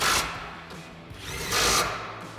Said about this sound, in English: Tighten these down with our 15mm socket.